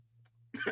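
One short, fairly faint cough after a run in freezing air, a single rough burst near the end over a quiet low hum.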